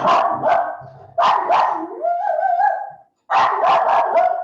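A dog barks loudly and close in sharp repeated bursts, then whines in a rising, drawn-out tone before another string of rapid barks.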